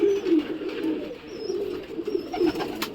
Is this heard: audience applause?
no